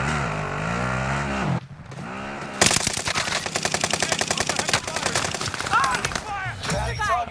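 Rapid automatic gunfire in a shooter video game, a fast run of sharp repeated shots taking up most of the stretch after a pause, with voices talking before and over it.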